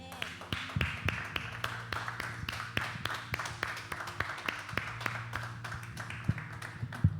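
A few people clap for God at home during a streamed church service, sparse sharp individual claps in an uneven rhythm, close and fairly quiet, over a low steady hum.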